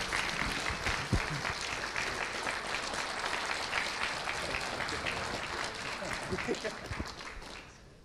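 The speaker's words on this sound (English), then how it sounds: "now you may applause" A debate audience applauds steadily for about eight seconds, a dense wash of many hands clapping that holds level and then tapers off at the end.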